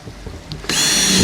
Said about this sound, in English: So I'm going to drill the holes through here now.